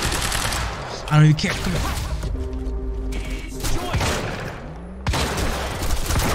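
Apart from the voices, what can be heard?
gunfire shooting at the player in video game Quantum Break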